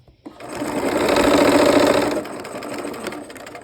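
Sewing machine stitching a quilt, a steady whirring run that swells for about two seconds, then eases to a slower, quieter hum.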